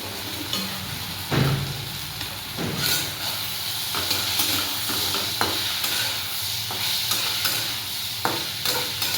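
Pasta with masala and tomato sauce frying in a pan, a continuous close sizzle and hiss broken by repeated stirring scrapes and clanks of a spoon against the pan.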